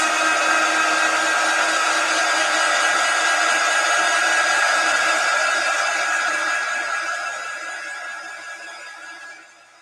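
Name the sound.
drying a chalk stencil with a dryer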